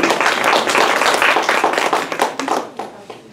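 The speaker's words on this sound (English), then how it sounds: "so a big round of applause to all of you for coming out today." Brief round of clapping from an audience at a rabbi's class, close and lively, thinning into a few scattered claps as it ends.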